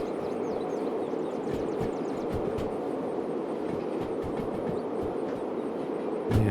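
Train rolling on rails in the Derail Valley video game, a steady low rumble with faint rhythmic clicking of wheels over rail joints, continuous and moderately loud, with a brief louder clunk at the very end.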